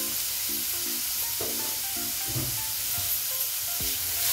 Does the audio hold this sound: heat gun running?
no